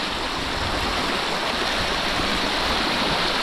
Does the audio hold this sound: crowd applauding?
no